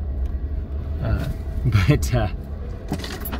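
A Can-Am Maverick off-road vehicle drives straight through a rough trail section, its engine rumbling low and steady while the body rattles and jolts over bumps, with a person talking over the noise.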